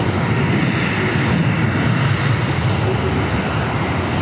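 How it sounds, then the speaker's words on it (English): A Japan Airlines Boeing 777-300 jet airliner at LAX, heading for runway 25 right, sends out a loud, steady engine roar that holds evenly throughout. "Japan Airlines 777-300 heading back to Tokyo Haneda, also heading down to 25 right."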